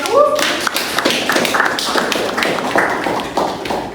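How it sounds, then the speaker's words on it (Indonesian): Students in a university classroom clap together after a lecturer's praise, a brisk run of near, sharp claps with some voices mixed in. "Tepuk tangan."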